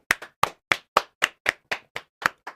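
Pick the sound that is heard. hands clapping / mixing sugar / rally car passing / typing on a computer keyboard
hands clapping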